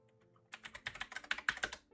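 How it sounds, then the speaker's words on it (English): Rapid typing on a loud computer keyboard, a quick burst of about a dozen sharp clacking keystrokes close up after a brief quiet start, with no talking over it. "cool keyboard. It's so loud, man."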